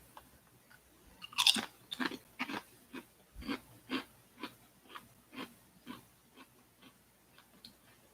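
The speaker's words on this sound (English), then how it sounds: "Just 30-something guy eating chips" Crunchy kettle chips chewed up close: a loud initial bite followed by a steady run of about a dozen rhythmic crunches that gradually soften.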